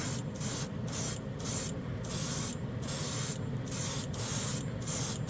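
Light gray Jumpwind metal paint sprays from a can in short hissing bursts, about eight of them in a fairly even rhythm with brief gaps between, close and moderately loud, with no voices.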